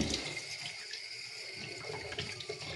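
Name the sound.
tap water running strongly into a sink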